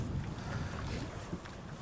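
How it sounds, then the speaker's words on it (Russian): Steady wind buffeting and rushing over open water on a September perch-fishing trip, a continuous broadband roar with no voices. "Ветер потихоньку стихает."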